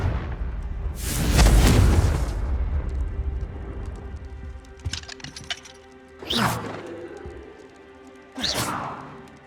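Fiery spell explosions in Hogwarts Legacy: a big booming blast with a long rumbling tail, followed by two sharper bursts several seconds apart, all close and loud.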